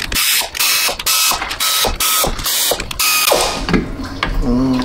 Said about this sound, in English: let's crack all these bolts loose